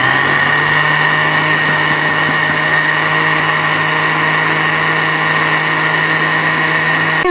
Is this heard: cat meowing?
no